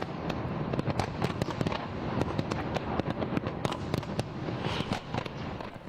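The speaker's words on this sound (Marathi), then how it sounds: "थायलंडमध्ये नववर्षाचं जल्लोषात स्वागत करण्यात आलंय। फटाक्यांची आतिषबाजी करत न्यू इयरचं इथे वेलकम करण्यात आलेलं आहे" A New Year fireworks display in Thailand crackles and pops continuously, with dense rapid bursts of sharp reports layered over a rumbling wash, heard from a moderate distance without voices.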